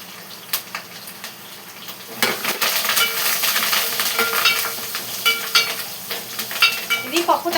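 Curry leaves drop into hot oil for a dal tempering with onion, crackling in a sharp sizzle that grows louder after a couple of seconds, broken by the clink and scrape of stirring in the pan.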